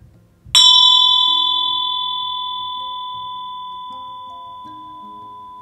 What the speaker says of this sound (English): focusing on the sound of the bell